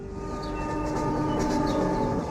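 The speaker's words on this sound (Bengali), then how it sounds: "ট্রেন যায় একেবারে ওদের বাংলোর সামনে দিয়ে।" A train rolls past steadily and close, a continuous rumbling rail drone with faint wheel clatter and brief high squeals, set in a horror audio drama.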